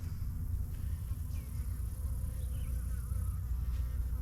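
Honey bees buzzing steadily in an opened beehive during a summer inspection, a dense continuous hum close to the listener with no talk.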